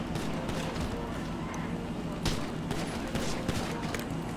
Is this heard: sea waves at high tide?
no